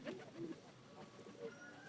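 Jalali pigeons perched on a rooftop give soft, low coos in a few short bursts, fairly quiet against an outdoor morning background.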